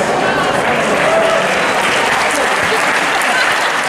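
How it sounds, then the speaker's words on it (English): Loud, dense applause from a large congress audience after an exercise session, sustained and even without pause. "Give yourself a round of applause"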